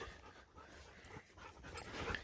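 A hunting dog pants close by outdoors on a February shed antler hunt in the woods, steady quick breaths running on and off across the moment with no talk over them.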